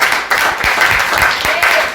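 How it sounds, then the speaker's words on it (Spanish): A church congregation applauds together, a dense burst of many hands clapping that fills a reverberant room, loud and continuous for about two seconds. "Dale un aplauso a Dios."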